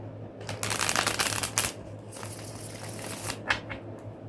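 Tarot cards shuffled by hand in repeated quick riffling bursts, close and fairly soft, with no speech over them.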